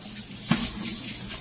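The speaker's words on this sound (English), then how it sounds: "Rinse in cold water." Marrow bones for stock rinsed under a running cold tap, a steady close hiss of water with a brief splash as the bones shift under the stream.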